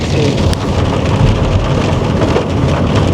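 Heavy rain pours steadily and loudly, a dense constant hiss of drops with a low rumble underneath, no voices.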